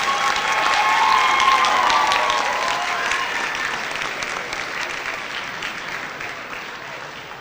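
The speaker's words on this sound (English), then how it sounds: "Please let's give our scholarship donors a round of applause." A high school merit assembly audience gives sustained applause for scholarship donors, a dense crowd of clapping that holds loud and then tapers gradually.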